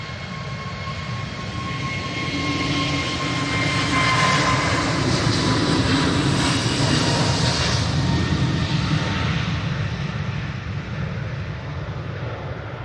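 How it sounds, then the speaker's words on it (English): A Qatar Airways Boeing 787-9 Dreamliner at windy Manchester Airport, its engines a steady, loud broadband roar with a faint whine that swells and fades slowly as it crosses the runway, heard alone over wind noise. "Qatar 787-9 Dreamliner is now crossing over to 3 right"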